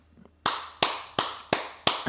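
Five sharp, loud claps of a person's hands in an even, steady rhythm, each with a short bright ring-out, heard close and alone after a brief quiet start.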